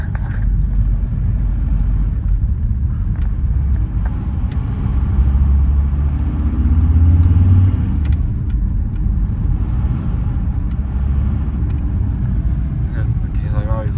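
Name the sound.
VW T4 2.5 engine running while driving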